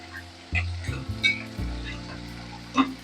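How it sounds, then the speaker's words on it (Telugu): Onions frying in a tempering for a drumstick and tomato curry, a steady sizzle from the pan broken by a few sharp clinks and scrapes of stirring. "ఉల్లిపాయలు ఇలా వేగుతూ ఉంటాయి"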